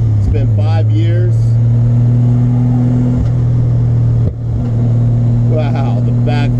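Toyota MK3 Supra with a 7M-GTE turbo engine, loud and close, holding a steady rumbling idle-to-rev drone with sharp popping backfires, while voices exclaim over it.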